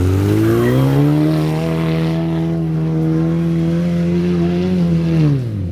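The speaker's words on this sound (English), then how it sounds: "This is actually an SPD Performance race downpipe and axle dump exhaust." A Ford Ranger fitted with an SPD Performance race downpipe and axle-dump exhaust revs in one long, loud, steady pull, with a deep droning tone that holds for several seconds and then drops away.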